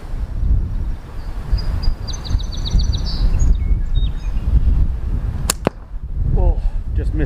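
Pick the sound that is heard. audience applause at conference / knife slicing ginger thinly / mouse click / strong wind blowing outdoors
strong wind blowing outdoors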